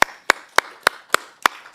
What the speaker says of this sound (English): So there's a second clap.